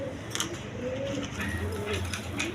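A pair of black Gorra pigeons coo in low, wavering rolls that repeat back to back, close and moderately loud over a steady background hum.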